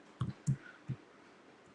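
Typing on a computer keyboard while entering a YouTube channel name: a few separate soft clicks, spaced irregularly, close and quiet against a low room hiss, with no talk.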